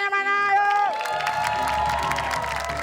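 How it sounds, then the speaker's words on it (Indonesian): Audience at a coin-biting contest clapping and cheering, a crowd roar swelling after a bright held tone fades, with shouts over the noise. "Ayo tepuk tangannya mana, ayo."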